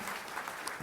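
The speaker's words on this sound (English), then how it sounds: "These guys deserve a big round of applause" A symposium audience applauds the hackathon teams at IIT Madras, a short, faint and steady patter of clapping from a room of people.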